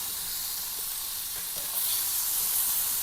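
Cooked fish pieces frying gently in a pan with a steady, close sizzle and soft crackle throughout, growing slightly brighter toward the end, with no talking.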